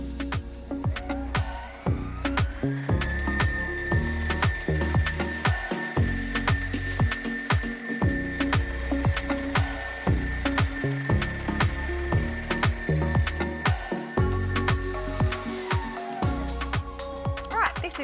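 A stand mixer with a paddle beats egg into thick choux dough, giving a steady mechanical whir with repeated knocking and slapping thumps as the dough turns, close and continuous.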